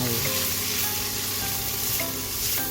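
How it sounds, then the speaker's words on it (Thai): Spaghetti and grilled chicken seasoned with oyster sauce, stir-fried over high heat on an electric stove, sizzle loudly and steadily while the utensil tosses and scrapes through the noodles. "ผัดให้เท่ากันเลยค่ะเปิดไฟแรงขึ้นมาเลย นี้ใช้เตาไฟฟ้านะคะ"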